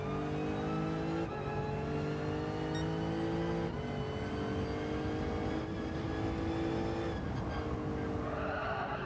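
A Lexus race car in Gran Turismo 7 holds a steady high-revving engine note that drops and climbs with each gear change, loud and continuous, with tire squeal rising near the end and no voices.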